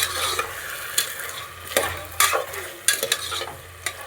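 Hyacinth beans frying in oil in a pan sizzle steadily as a spoon stirs them, scraping and knocking against the metal every second or so, close up and without voices.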